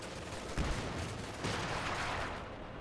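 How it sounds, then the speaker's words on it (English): Company of Heroes 2 battle din: a dense, continuous roar of gunfire with heavier artillery-like blasts thumping in at intervals, loud and busy, with no voices over it. "Artillery still opening fire."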